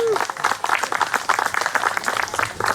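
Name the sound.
audience applause for Senator Sandy Pappas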